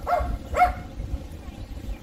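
A dog barks twice in quick succession at arriving cars, moderately close, then falls quiet over a low background rumble.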